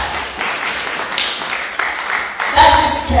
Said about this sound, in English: Can we give a good hand clap unto our pastor?